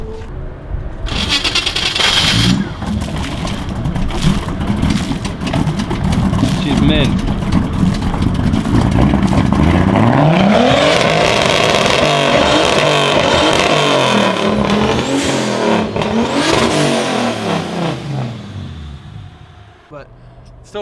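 A turbocharged BMW E34 with water in its exhaust starts and revs, the engine rising and falling through several throttle blips before settling, loud and close, with people talking over it.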